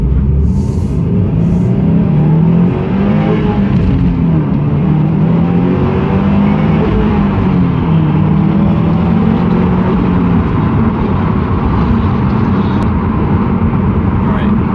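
A Subaru WRX STI with a 310-horsepower 2.5-liter EJ25 boxer four-cylinder runs with a loud, steady, close engine drone, and a voice talks over it throughout.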